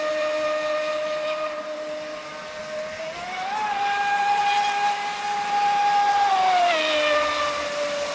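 Electric motor of a carbon fiber RC boat running at partial throttle on water, a loud steady whine whose pitch rises, holds and then drops back near the end.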